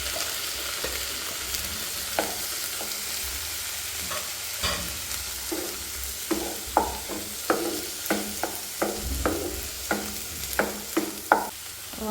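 Onions and tomatoes fry in a pan with a steady sizzle, while a spoon stirs them in a series of scraping, clinking strokes that grow busier toward the end, with no talking.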